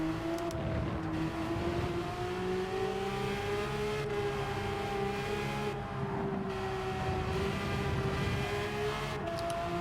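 Race car engine in Gran Turismo 7 holding a steady high drone that rises and falls as the throttle is worked through corners, continuous and fairly quiet with no talk over it.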